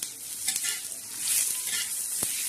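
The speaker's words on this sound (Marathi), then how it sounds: "खोबरं आणि लसण थोडासा ठेसलेला तो चांगला भाजणार आहे" Coconut and crushed garlic roasting in a pan for a spicy Maharashtrian fish curry masala, giving a steady close sizzle with a couple of brief stirring scrapes and no voices.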